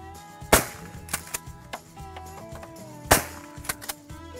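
Shotgun blasts ring out at a sporting clays range: two sharp reports, a few seconds apart, set against outdoor background noise and softer distant pops, with no one speaking.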